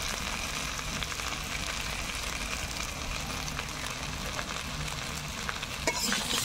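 Spices and ginger paste for Bengali shukto sizzle and scrape in a hot pan as they are stirred, a dense continuous frying hiss with soft spatula movements throughout.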